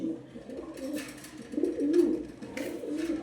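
Pigeons, a male and a female, coo nearby in several low throaty phrases that swell and fade, with faint rustling between calls.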